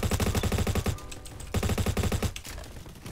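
Rapid automatic fire from a Honey Badger rifle in a video game: two fast, loud bursts of evenly spaced shots close up, separated by a short pause.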